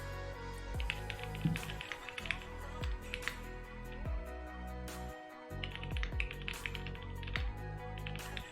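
Clicky typing on a computer keyboard, a steady run of close, light key taps with brief pauses, played alone over a low background hum.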